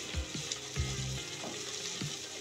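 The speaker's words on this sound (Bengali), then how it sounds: "ভালো করে নেড়ে চেড়ে গরম মশলাটাকে মশলার সঙ্গে ভালো করে মিশিয়ে নিচ্ছি।" Garam masala is stirred into a spice paste frying over low to medium heat for a katla fish roast, with a continuous soft sizzle and a few gentle scraping strokes close by.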